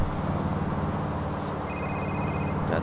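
A ringing telephone inside the GTA IV video game gives a short run of bright, steady tones partway through, over the continuous rumble of in-game driving.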